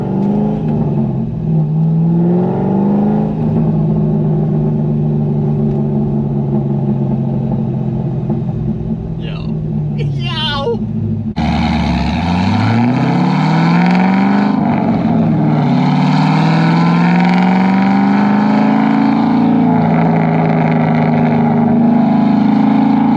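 A C5 Corvette Z06 engine pulls loudly under steady throttle, its pitch climbing through the revs before a gear shift drops the note and it builds again, with a brief squeak near the change.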